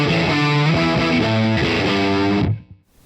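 Electric guitar driven through an Alpaca Rouge distortion model, based on the Red Llama, on a Line 6 HX One, played by a three-single-coil guitar: a loud, saturated riff of repeated chugging notes and chords that stops abruptly into near silence.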